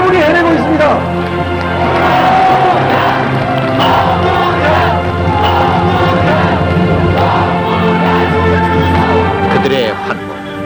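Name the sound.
crowd cheering at Roh Moo-hyun rally in Busan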